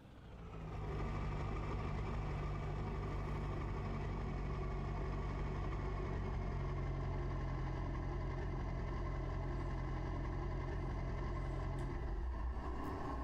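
A truck engine idles in Farming Simulator 25, a steady, even rumble with a constant low hum and layered tones running unbroken and close, with no talking over it.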